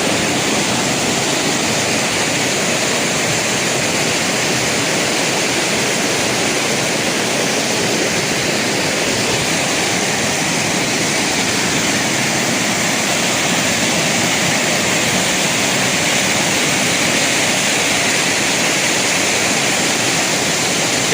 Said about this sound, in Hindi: इधर जा रहा पानी नीचे